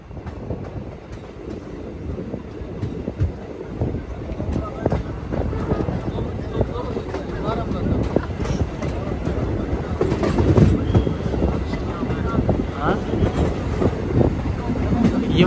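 Low rumbling and rattling of an electric train at a railway station in Kashmir, steady and fairly loud, with scattered voices and bustle around it.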